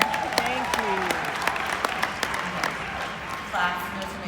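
An audience at a dōTERRA convention talk claps steadily for a few seconds, a dense spread of handclaps with faint cheers that thins out toward the end.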